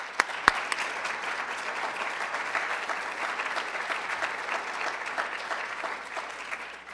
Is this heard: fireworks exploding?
no